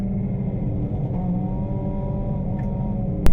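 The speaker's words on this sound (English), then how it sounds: "You can hear the engine revving" A Puma Cup race car's engine at Cadwell Park drones steadily from inside the car at a held, strained pitch, with a short sharp knock near the end.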